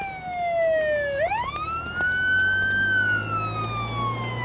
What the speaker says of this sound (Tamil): ஆம்புலன்ஸ் வருது பார், அதை நிறுத்து.